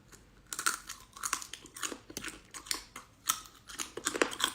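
Fried bamboo weevil insects are crunched in close-up, giving a series of sharp, crisp bites and chewing crackles in an irregular rhythm, quiet overall and with no voices.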